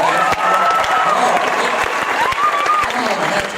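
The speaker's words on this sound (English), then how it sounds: "How about one round of applause for my friend Tim Hawkins right there?" A stand-up comedy crowd keeps up continuous applause and cheering for a comedian, loud and dense, with a voice faintly over it.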